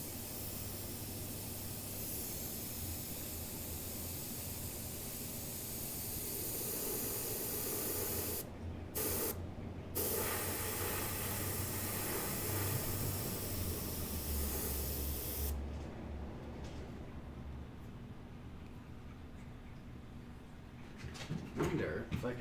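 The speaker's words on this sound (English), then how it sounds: "I don't like to stop when I'm airbrushing" An airbrush sprays paint in a long, steady close hiss that runs almost unbroken, cutting out briefly twice before fading near the end, with a person speaking softly at times over it.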